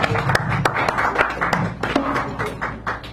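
A small audience at a café poetry hour claps as a poet comes forward, with scattered, uneven hand claps close by and a low murmur of room noise underneath.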